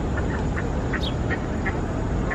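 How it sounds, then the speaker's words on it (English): Ducks quacking at a pond in Central Park, a string of short repeated quacks at fairly regular intervals over a constant outdoor background, with no talk. "Lots of ducks."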